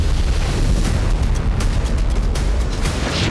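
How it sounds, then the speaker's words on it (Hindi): A powerful explosion from an Israeli bombing in Tartus, Syria, producing a continuous, loud, low rumbling roar that fills the whole stretch, with crackling bursts on top and no voices. "देखिए इस धमाके की अलग अलग एंगल से रिकॉर्ड की गई तस्वीरों में विशालकाय मशरूम क्लाउड नजर आ रहा है।"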